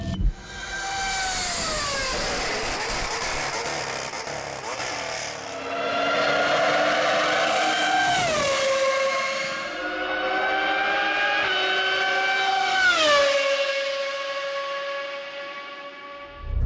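A high-pitched naturally aspirated V10 Formula 1 engine screams as it revs up repeatedly toward 20,000 rpm, each shriek climbing then dropping with gear changes, loud and close, no voices.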